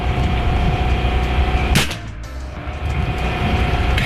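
An AEA Zeus .72 caliber PCP air rifle fires one sharp, loud shot near the middle, standing out over a steady, rushing background.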